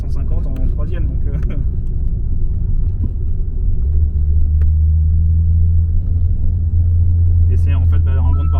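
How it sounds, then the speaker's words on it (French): Audi S2 engine running steadily at 2000 rpm in fourth gear at about 60 km/h: a loud, continuous low drone that deepens into a steady hum partway through, with someone talking over it for much of the time. "Je suis en quatrième, on est à 60, à 2000 tours minute, et elle bronche pas la voiture"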